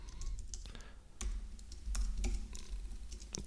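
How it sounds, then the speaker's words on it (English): Code being typed on a computer keyboard, with irregular clicks and small clusters of keystrokes over a low background rumble, close and moderately quiet, with no talk. "It's like some very arcane stuff I'm typing here."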